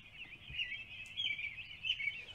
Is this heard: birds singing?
yes